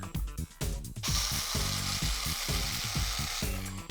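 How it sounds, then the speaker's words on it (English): An electric spice grinder whirs as it grinds urad dal into fine powder in small batches, a steady loud motor buzz broken by short pauses and restarts. "we are going to get a spice grinder to grind the urad dal"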